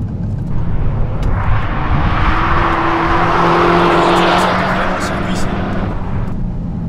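A Peugeot 308 GTI race car engine roars loud and steady in fourth gear as it holds speed on a straight at the Ascari circuit, under someone talking over it, with the pitch swelling and easing off.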